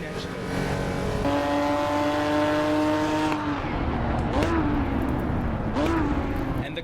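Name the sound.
racing car engine in a video game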